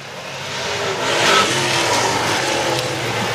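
Late model race cars at a short track roar down the front straightaway, a loud sustained engine drone that swells as the pack passes and then holds steady.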